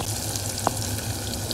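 Sliced onion frying in hot oil for a home-style Dashain mutton curry, a faint steady sizzle with one brief clink partway through.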